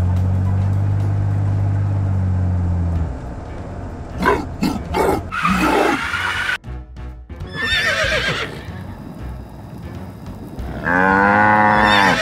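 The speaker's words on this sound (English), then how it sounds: "You Foxy, I warned you many times not to touch my cattle, and yet you do the same." Cartoon cattle moo in a 3D animated farm scene with a gorilla and a fox, mixed with neighing and clip-clop effects, several short calls and a long harmonic moo near the end over background music.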